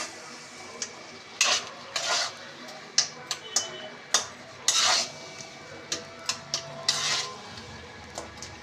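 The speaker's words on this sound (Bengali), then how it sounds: "বন্ধুরা এবার এর মধ্যে দিয়ে দেবো কাজু কিশমিশ।" Cashews and raisins tumble into a pan of pineapple chutney and get stirred, with sharp clinks of a spoon against the pan repeating at uneven intervals over a quiet background.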